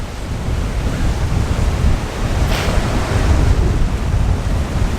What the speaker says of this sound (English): I think there's a big wave coming in there.